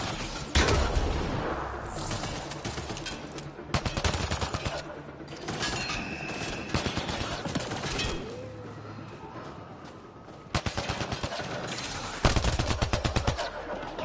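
Bursts of gunfire crack through a Mass Effect Andromeda firefight, with rapid automatic volleys and heavy impacts in repeated loud clusters separated by short lulls.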